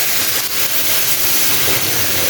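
Coconut milk hits a hot pan of taro stolons being cooked with salted hilsa, a loud, dense, steady hiss filling the whole moment.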